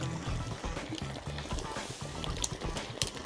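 Water is poured in a small refill beneath a backpacking camping cooker outdoors, a soft continuous trickle and splash close by with no talking.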